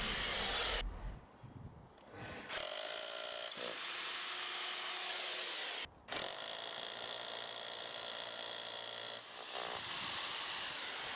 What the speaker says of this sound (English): I'm just using the SDS drill just to drill some holes in the post in the mortar joints